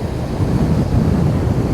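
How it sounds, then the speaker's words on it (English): Waves breaking out on a West Wales beach make a steady, broad roar of surf mixed with wind buffeting the microphone, with no voices. "That's why you got loads of breakers coming at us."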